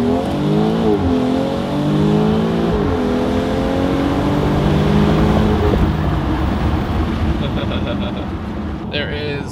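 A car in sport transmission mode launches and accelerates hard on an open road, its engine rising through the gears with stepped pitch climbs and shifts under a continuous loud roar and road noise, with a voice speaking over it.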